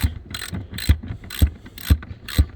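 A hand ratchet clicks in quick bursts while loosening 15mm seat bolts on a Jeep Grand Cherokee WJ, about five sharp, evenly spaced pulls with pawl chatter in between, close up and alone.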